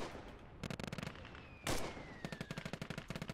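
A vehicle's gun fires in the WW2 real-time strategy game Gates of Hell, with quiet bursts of rapid automatic fire, a sharp blast in the middle, then another rattling burst, all fairly faint and distant.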